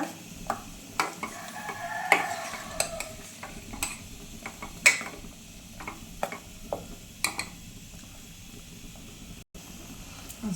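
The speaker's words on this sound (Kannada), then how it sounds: "ಎಲ್ಲ ಚೆನ್ನಾಗೆ ಮಿಕ್ಸ್ ಮಾಡ್ಕೊಳ್ಳೋಣ" Ghee rice ingredients stirred and mixed in a cooking pot, a spoon scraping and clinking against the metal in irregular strokes over a soft, steady sizzle, close and fairly quiet with no voices.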